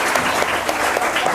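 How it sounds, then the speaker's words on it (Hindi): Applause from a quiz-show audience for a contestant, a steady dense patter of many hands clapping throughout, moderately loud with no one speaking over it. "अंजलि के लिए एक जोरदार ताली होनी चाहिए"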